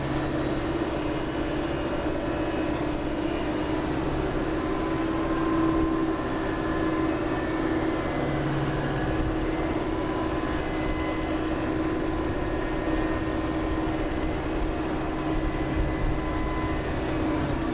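A Ram 2500 HEMI pickup in four-wheel drive, low range third gear, straining in a tug against a tractor: a steady, continuous engine and drivetrain drone with a constant hum and no talking.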